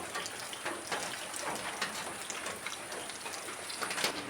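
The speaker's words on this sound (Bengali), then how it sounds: "দেখুন বন্ধুরা, আবার বৃষ্টি আসছে।" Rain patters steadily at a soft, even level, with scattered sharper drops ticking through the hiss and no voices.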